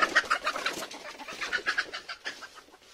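Desi chickens on a farm give a run of short, repeated clucking calls, close and moderately loud, in quick uneven bursts with no talking over them.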